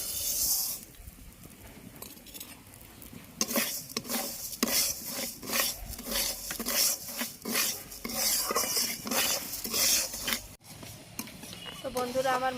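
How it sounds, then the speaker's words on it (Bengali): Mung dal dry-fries in a pan, stirred with a utensil that scrapes and clinks against the metal in a quick rhythmic series, with a faint sizzle beneath and a voice talking. "মুগ ডালটা আগে ভেজে নেব"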